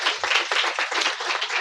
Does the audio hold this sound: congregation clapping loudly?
yes